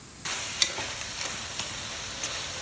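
Chicken necks drop into a pan of sautéing garlic and onion for chicken macaroni soup, giving a steady close sizzle broken by a few sharp clinks and stirring scrapes.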